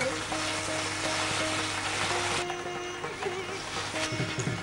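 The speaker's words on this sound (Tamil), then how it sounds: "கீரையை நன்றாக நல்லெண்ணெயில் நாம் பொன்னிறமாக வதக்க வேண்டும்." Spinach sautéing in sesame oil in a pan, a steady close sizzle and crackle throughout with occasional stirring scrapes toward the end.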